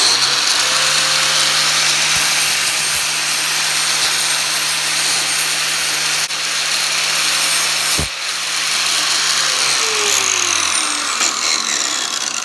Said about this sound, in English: Oh, custom bench grinder.